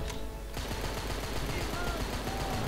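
Rapid automatic gunfire in Rambo: The Video Game during a mission in Afghanistan, a dense rattling burst starting abruptly and continuing steadily, loud and close, with a voice talking underneath.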